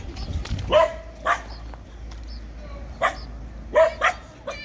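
Several dogs bark in short separate bursts out in a village lane, with goats and cows said to roam nearby. The barks sound at moderate distance over steady outdoor background, one stronger pair near the end.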